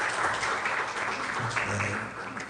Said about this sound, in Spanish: Así que les vamos a dar un pequeño aplauso porque están hoy día presentes